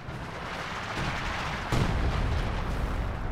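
Artillery shells pound the ground in Company of Heroes 2, a continuous rumbling barrage with a sharper, heavier impact about halfway through, loud and dense with no voices.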